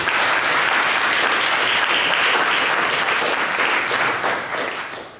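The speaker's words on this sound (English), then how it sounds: "Let's give our youth choir another round of applause." A church congregation applauds its youth choir during a service, with dense, sustained clapping that fills the room and fades out near the end.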